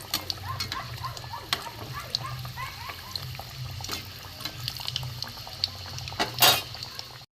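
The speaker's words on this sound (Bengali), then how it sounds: "ভালো করে ভাজা হোক।" Sweet bird-shaped dough snacks frying in hot oil produce a continuous bubbling crackle with scattered sharp pops, fairly close, and a louder hissing flare toward the end.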